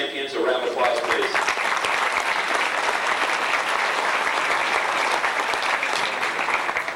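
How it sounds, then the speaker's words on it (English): A banquet crowd applauds go-kart racing champions at a 1991 fan club gathering, dense, sustained clapping filling the room at an even level throughout, with voices mixed faintly underneath. "Let's give all these champions a round of applause, please."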